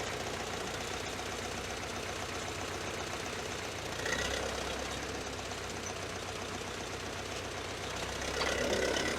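A YuMZ-6 tractor with a PLN 2-35 plow during heavy spring plowing, its diesel engine chugging steadily and knocking up close, swelling briefly as it lifts the plow and pulls away, with no speech.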